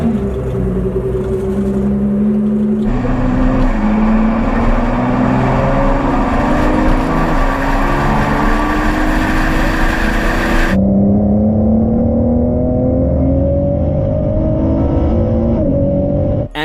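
A 2018 Ford GT supercar engine revs and accelerates loudly up close, with rising pitch sweeps repeated through several gear pulls, a brief drop, then another long climbing surge with no talking.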